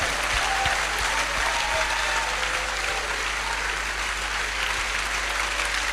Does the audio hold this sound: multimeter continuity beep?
no